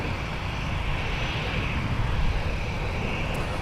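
An airliner departing runway 17 at Minneapolis–Saint Paul airport during diversion traffic, heard as a steady, broad jet engine roar from a distance that holds level throughout.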